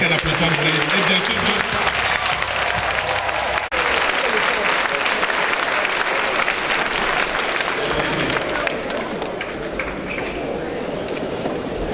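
Applause fills a political party congress hall after the commission report is presented, sustained dense clapping from a large crowd with murmuring voices mixed in, steady and loud throughout.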